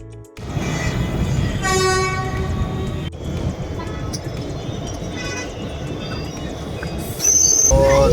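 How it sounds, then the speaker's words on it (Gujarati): Mumbai local train bound for Bandra arriving at a busy station platform, with loud continuous rail rumble, several horn toots and squealing wheels, a sharp clank midway and a surge of noise near the end, amid crowd chatter. "તો ટ્રેન આવી ગઈ છે ને હવે આપણે જઈશું ટ્રેનમાં."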